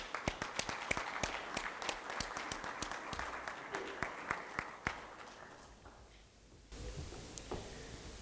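Audience applause at an awards ceremony in Sarajevo: a thick run of claps that thins out and fades after about five seconds, then gives way to quieter room sound.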